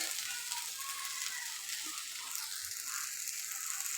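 Sliced okra fries in hot oil in a pan, giving a loud, continuous, close-up sizzle with faint crackles and occasional stirring scrapes, and no voices.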